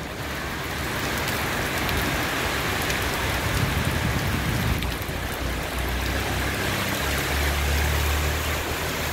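Heavy rain pours down steadily during an outdoor thunderstorm where kites are being flown, a dense, even hiss of drops striking surfaces with no talking.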